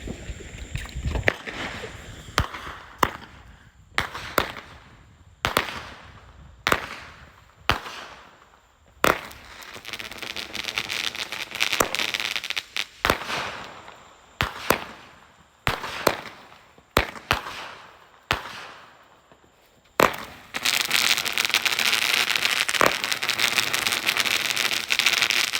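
Fireworks are set off on July 4th by a small family group, with a string of sharp, loud bangs and crackles coming in irregular bursts and short gaps between them, ending in a sustained barrage of rapid crackling.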